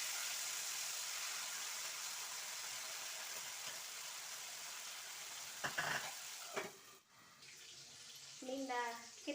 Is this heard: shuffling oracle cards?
no